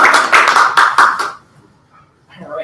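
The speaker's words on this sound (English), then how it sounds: "Wait for the applause to die down again." At a TechMasters Speechcraft club meeting, a handful of loud, close claps ring out in a brief burst before fading to quiet, followed by someone starting to speak.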